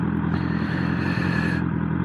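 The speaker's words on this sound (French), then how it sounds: "on entend le bruit du moteur du pot" A BMW S1000R motorcycle with the exhaust baffle removed runs steadily close by, giving a continuous loud engine and exhaust drone with a faint mechanical clatter and no talking.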